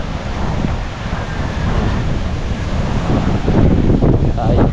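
Strong wind by the sea buffets the microphone in rough gusts, with surf washing underneath, loud and close, swelling stronger toward the end.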